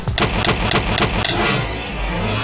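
Rapid string of sharp explosive bursts from end crystals blowing up in a Minecraft fight with the Ender Dragon, about five quick blasts followed by a lingering rumble, loud and close.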